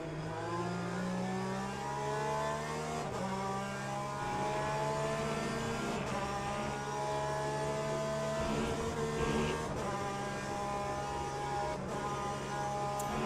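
A flat-six race car engine in the Le Mans Ultimate racing game screams loudly and continuously, its pitch climbing through the revs and dropping at each gear shift, up close with no voices.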